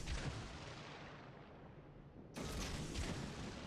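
Torpedoes launch from the front tubes of a warship in World of Warships, a dull whooshing burst that fades and is followed by a second, louder rushing blast, with no talk over it.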